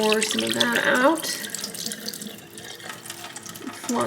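Water pours and splashes into a sink or container close by, with a person speaking briefly over it before the flow eases.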